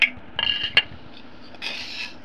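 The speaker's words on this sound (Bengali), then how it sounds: "এটা এভাবে করে মুচমুচে করে ভেজে আমি একটা প্লেটে ট্রান্সফার করে নিচ্ছি" Crispy fried lachha semai scraped and moved from a pan onto a plate, a few short metallic scrapes and clinks followed by a softer rubbing rasp, close and quiet, with no speech.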